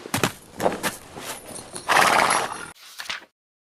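Horse whinny and clip-clopping hooves as a storybook sound effect for a prince riding through the woods, a loud neigh rising over scattered hoof beats before the sound cuts off abruptly.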